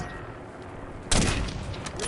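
Gunfire in a Call of Duty-style shooter game: quiet at first, then a sudden loud burst of rapid shots that keeps rattling to the end, with a voice faintly present.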